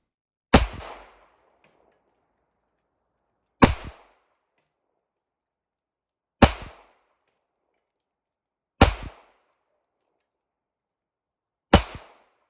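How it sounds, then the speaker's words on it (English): Five sharp shots from a .380 ACP pistol fired at a target ring out one at a time, about three seconds apart, each a loud crack with a short decaying tail and silence between. "we're going to fire 5 rounds out of the 380 and watch it hit the target"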